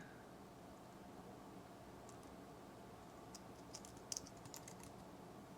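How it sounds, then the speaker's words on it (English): Quiet typing on a computer keyboard comes as short bursts of light key clicks, sparse at first and then quicker, over faint background hiss. "Type it in."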